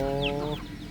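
A chicken gives a short, close cluck against a low rural background hum, fading out within a second.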